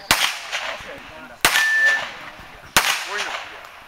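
Gunshots ringing off steel targets at a cowboy action shooting match, three sharp metallic clangs spaced over a second apart, each with a bright ringing tail, close and loud.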